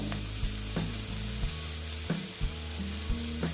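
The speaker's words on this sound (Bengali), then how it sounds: "আবার এটার সঙ্গেই আবার আমি ভেজে নিচ্ছি" Dried loitta fish fries in plenty of oil with a steady, dense sizzle. Periodic scraping knocks come from stirring in the pan.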